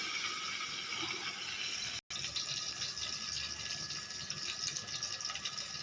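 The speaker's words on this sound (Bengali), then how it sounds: "এখন মশলাটা ঢেলে দিচ্ছি।" A yogurt and poppy seed spice mix is poured into a pan of fried pointed gourd for doi potol posto, giving a steady, fairly quiet liquid hiss that breaks off for an instant midway and then carries on.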